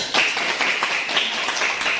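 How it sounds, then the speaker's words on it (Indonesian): A class of students clapping their hands together in a classroom, a dense burst of claps filling the space and continuing steadily throughout, fairly close and loud. "Ya, tepuk tangan dulu"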